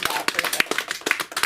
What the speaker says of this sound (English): sit with the fact that we just clapped for no reason and that you did it